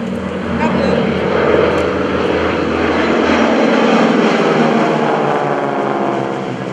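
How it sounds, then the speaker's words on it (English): North American T-6 Texan trainers with Pratt & Whitney R-1340 radial engines roar past at an airshow over Greenwood Lake, a loud sustained propeller drone that swells and holds steady, with a faint voice underneath. "Let's listen to the sound of those"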